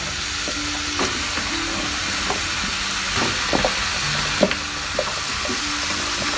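Washed vegetables for a simple vegetarian dish hiss and sizzle steadily in a pan with a little water, broken by occasional clinks and scrapes of stirring, with no talking.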